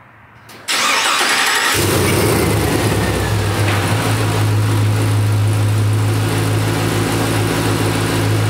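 A car with 24-inch Rucci wheels starts up: after a brief quiet moment, a loud crank catches and the engine settles into a steady, close, rumbling idle that carries on with no talking.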